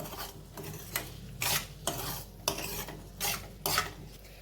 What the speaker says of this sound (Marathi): एक दोन मिनिटं पात परतून झालेली आहे